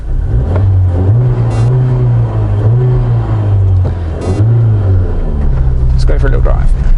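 A Honda Civic Type R FK2 accelerating on the road in its plus R mode: loud engine revs rising and dropping through gear changes, with road noise and a voice talking over it.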